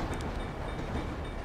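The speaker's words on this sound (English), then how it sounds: "Let's wait for the train." A train passes in the video game GTA 5, a steady loud rumble with rail noise and faint clatter filling the moment, close by with no talking.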